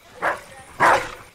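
A dog gives two separate barks, the second louder and longer, close by and with no talk over them, in a scene from the horror series Channel Zero: Candle Cove.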